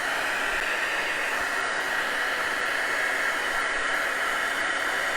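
Heat tool blowing steadily to dry gel medium on a mixed media book cover, a constant close airy whoosh without pause or speech.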